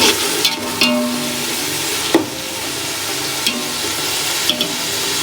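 Small onions (shallots) being sautéed in a pan for Salem-style basmati biryani: a continuous frying sizzle with occasional scraping clacks of the stirring utensil, close and steady, no speech.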